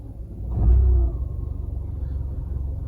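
A Fiat 500's engine turns over and settles into a low, steady idle, with a brief louder surge at the start, close by and without talk.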